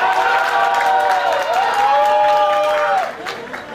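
Applause and cheering from a studio audience at a televised costume-impersonation contest fill the room with a steady roar, then fade out near the end.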